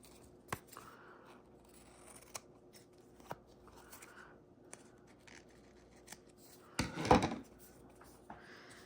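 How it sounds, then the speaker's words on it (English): Scissors snip the overhanging ends off a paper craft tag, quiet intermittent snips and clicks with a louder crunching cut near the end. "we are cutting off the ends that stretch over"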